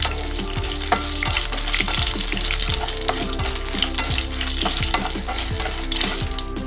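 Tamarind, garlic, dried red chillies and dal frying in hot oil for tomato chutney, a loud, close sizzle with regular rhythmic stirring strokes throughout and no voices.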